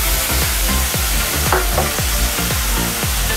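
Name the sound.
garlic paste sizzling in fish-frying oil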